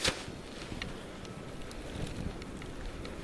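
Strong wind in a snow blizzard, a continuous rough roar buffeting the microphone after a brief loud gust at the start, steady and close with no voices.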